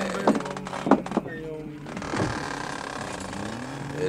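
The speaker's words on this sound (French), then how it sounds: "Et le couvercle se rabattit sur lui" A lid, called the hatch, slams shut with a cluster of hard mechanical clunks and creaks, followed by a lower rumbling settle and steady background tone.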